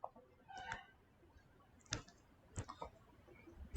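A computer mouse clicks several times near the microphone, sharp single and double clicks spaced across a quiet room, with no talking.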